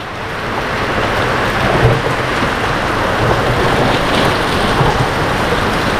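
Steady rain falls over a rural field in Thailand, a dense, continuous wash of drops holding even loudness throughout, with no voices.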